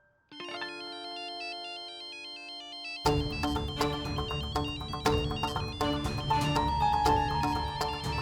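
A melodic phone ringtone plays a repeating chiming tune, then a fuller, louder electronic arrangement with a beat kicks in and keeps going.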